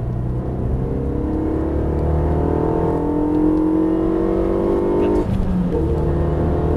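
A Renault Mégane RS on a driving course in Issoire hums on light throttle from inside the cabin, its engine drone rising and falling gently in pitch, with a brief lift-off dip before settling again.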